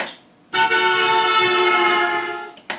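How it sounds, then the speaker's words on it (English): A loud car horn blares steadily as it passes, its tone sliding slightly in pitch, then cuts off abruptly. "you can listen to the horn of the car changing its pitch depending on its position"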